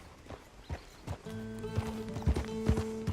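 Horse hooves clip-clopping in the Red Dead Online video game: a steady, close trot of distinct hoofbeats, joined partway through by sustained background music tones.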